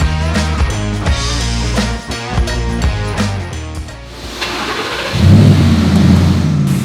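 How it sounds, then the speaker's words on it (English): A Ford Raptor with a 1000 HP engine and a MagnaFlow dual muffler revs in uneven bursts, then settles into a loud, deep, steady rumble close by, with no talking. "the Raptor runs. So it's actually pretty quiet"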